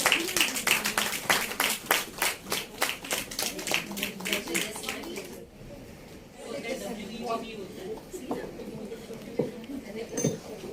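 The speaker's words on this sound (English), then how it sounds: "Can we have a round of applause running for her as well?" At a women's awards ceremony in Pune, an audience gives a round of applause for an honoree. Loud, rhythmic clapping fills the first half, then fades out, leaving scattered claps and room noise with faint voices.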